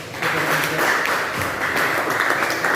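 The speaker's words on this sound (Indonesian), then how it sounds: "Mari kita berikan aplaus" Classroom audience applauding a student group after its presentation, steady continuous clapping held at an even level throughout, with faint voices underneath.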